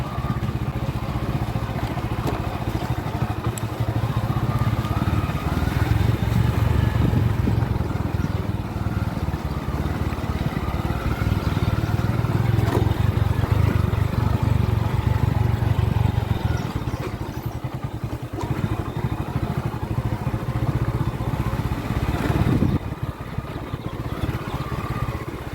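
A motorbike rolls downhill on a mountain road in the Jawadhu hills, giving a steady, fairly loud rumble of engine and road noise that continues throughout, with no speech.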